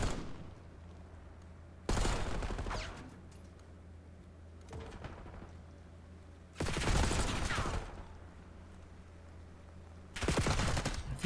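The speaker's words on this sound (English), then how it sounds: "A few more shots ring out." Bursts of automatic gunfire from a multiplayer shooter game come in three loud, dense volleys of about a second each, separated by quieter stretches of faint background noise.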